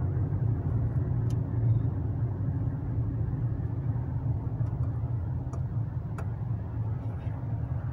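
A car idling or creeping along slowly while being parked near Sahara Mall, a steady low engine rumble with faint ticks, no voices.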